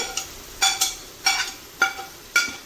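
Tomatoes with chilli powder sizzle in a hot pan for chicken biryani, as a spoon stirs in five or six distinct scraping strokes over a steady fry, close and clear with no talk.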